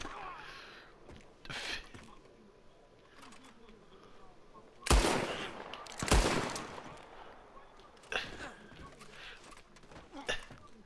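Gunfire in Red Dead Redemption 2 comes as scattered single shots and two loud close bursts, with voices chattering between them.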